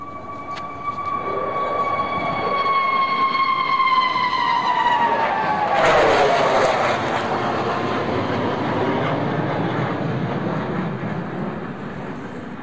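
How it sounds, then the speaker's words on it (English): Four Sukhoi Su-57 jet fighters fly over, a rising whine with falling pitch tones sweeping down as they pass overhead, then a broad loud turbofan roar that lingers and fades. "This is the sound of four Su-57s."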